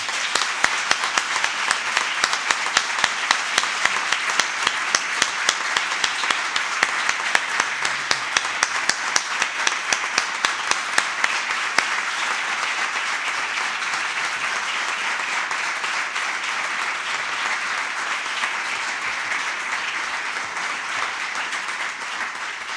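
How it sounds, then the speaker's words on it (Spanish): Sustained audience applause at a Spanish poetry book presentation, dense and loud throughout, with sharp individual claps standing out early before settling into an even wash of clapping. "El aplauso que les pido es para ella."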